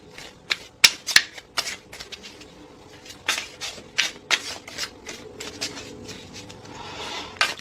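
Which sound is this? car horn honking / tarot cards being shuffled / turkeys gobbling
tarot cards being shuffled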